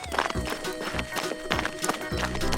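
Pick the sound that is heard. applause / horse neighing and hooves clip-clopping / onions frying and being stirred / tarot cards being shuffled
horse neighing and hooves clip-clopping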